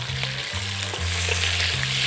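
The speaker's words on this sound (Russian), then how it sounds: "Погружаем мясо в нашу кастрюлю с растопленным маслом." Steady hissing sizzle of meat frying in melted butter in a pot, with a low stirring rumble underneath, continuous and close.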